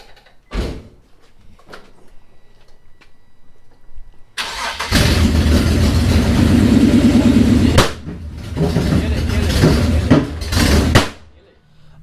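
A Nissan 350Z with a swapped-in VQ37 engine starts up and runs at a loud, steady idle for several seconds, with a dip partway through, after a door thud and some quiet shuffling.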